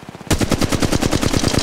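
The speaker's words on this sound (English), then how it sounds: "They're shooting at me." Rapid automatic gunfire from Apex Legends Mobile, a loud, steady burst of evenly spaced shots that starts abruptly and continues without pause, with no talk over it.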